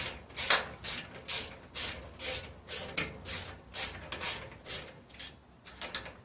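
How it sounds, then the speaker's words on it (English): A ratchet fitted with a long, deep 8mm socket turns fasteners on a lawn mower being repaired after running badly on old gas, making close, rhythmic bursts of clicking repeated about a dozen times. "So, I got a long, deep 8mm socket."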